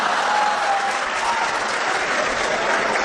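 Audience applause at a Hindi kavi sammelan poetry recital, a dense steady clatter of many hands clapping for about three seconds, fairly loud and even throughout with no talk over it.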